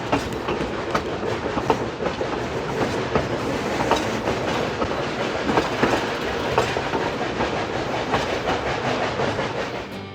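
The Durango and Silverton train rolls steadily along its tracks, with a continuous rumble and rhythmic clickety-clack of the wheels heard from aboard a car, with no talk.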